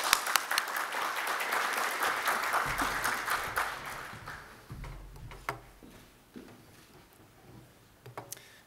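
An audience applauds to welcome a lecturer at a history talk, sustained clapping that swells then thins into scattered claps and fades, with faint voices toward the end.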